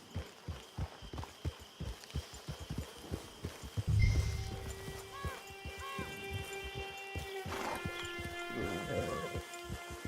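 Rhythmic hoofbeats of a horse being ridden in Red Dead Redemption Online, quick regular thuds for the first few seconds, fairly faint, then giving way to soft sustained game tones.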